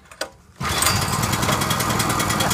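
Small Powerhorse generator engine after a carburetor replacement starts abruptly after a brief quiet stretch, then runs steadily and loudly with a rough, buzzing drone, close by and alone.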